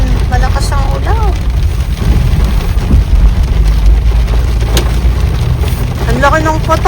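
Heavy rain pours down in Calgary in a dense, steady hiss while someone talks over it.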